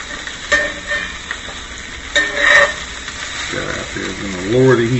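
Onions frying in a pan for an Irish breakfast give a steady close sizzle with a few scrapes and stirs, under intermittent talking.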